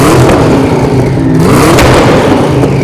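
A Hennessy Venom F5's 6.6-liter twin-turbocharged V8, called Fury, revs loudly and up close, its pitch climbing and dipping in sweeping surges for about three seconds before cutting off abruptly.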